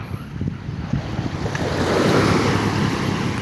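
Sea waves roll in at Ao Noi on Prachuap bay in Thailand, a steady broad wash of surf swelling louder toward the end, with wind buffeting the microphone and no voices.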